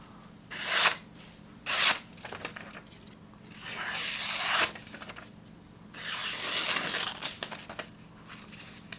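A Benchmade 950 Rift knife slices through limp recycled notebook paper, producing several dry rasping cuts: two short strokes, then two longer, drawn-out passes, fairly quiet and close.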